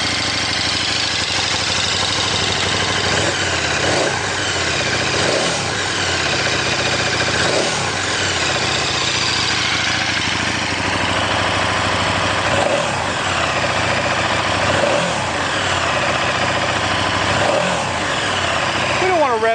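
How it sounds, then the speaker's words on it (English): A 2014 KTM 1290 Super Duke R motorcycle idles close by with a steady, loud engine note and a few small blips, with no voices over it. "We don't want to rev this bike too much."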